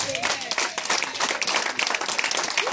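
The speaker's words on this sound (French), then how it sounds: "Applaudissez-nous." An audience claps during a radio and TV broadcast: dense, continuous applause fills the whole stretch, with faint voices or tones underneath.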